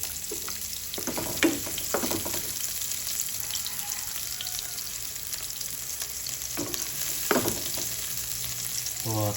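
Garlic and fresh onion fry in a pan with a steady, hissing sizzle, broken by a few clattering stirs of the utensil against the pan.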